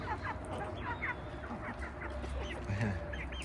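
Backyard chickens let out onto snowy ground, a close flock giving rapid overlapping clucks and short squawks above a steady background noise.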